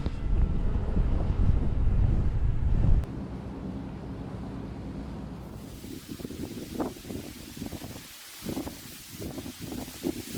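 A headwind buffets the microphone while cycling, a heavy low rumbling roar for the first few seconds that then drops to a lighter, gusty rustle with intermittent thumps.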